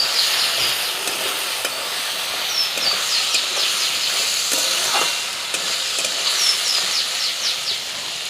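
Chicken pieces frying in a pan with ginger-garlic paste, coriander, green chili and salt, giving a steady close sizzle and hiss with occasional stirring scrapes throughout.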